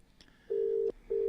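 A telephone rings during a live phone-in call on a broadcast show, two steady electronic ring bursts separated by a short gap, clear and close with no talk over them.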